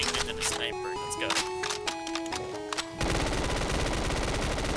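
Rapid machine gun fire from an RPD in a Black Ops 3 custom zombies map, a dense loud burst that takes over abruptly partway through, after game music and sounds.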